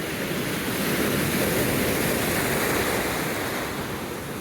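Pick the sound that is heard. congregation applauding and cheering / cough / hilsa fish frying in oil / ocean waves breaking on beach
ocean waves breaking on beach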